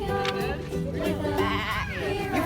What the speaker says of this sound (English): That's goat, Shrika.